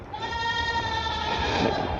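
A single drawn-out goat bleat, steady and nasal with a wavering tail, close by and fairly loud.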